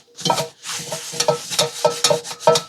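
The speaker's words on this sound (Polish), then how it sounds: "będę smażył na niej mięso" Meat frying in a hot wok with oil gives bursts of sizzle and scraping in an uneven rhythm, about eight close, fairly strong strokes in quick succession.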